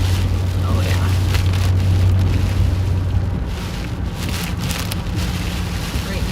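Strong wind from a severe storm buffets the microphone with a steady roar, mixed with a rain-like hiss and a low hum underneath, loud and continuous.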